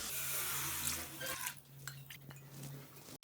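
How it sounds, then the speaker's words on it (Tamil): Water is poured into a heated pan in a home kitchen to make dough for sweet and savory kozhukattai dumplings. A gushing pour runs for over a second, followed by faint clinks of utensils and a low hum. "இந்த கிண்ணத்தில் 3 கிண்ணம் தண்ணி எடுத்துக்கிறேங்க"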